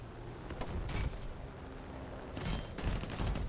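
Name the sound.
aircraft cannon fire in the video game War Thunder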